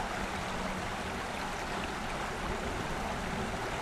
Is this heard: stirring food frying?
no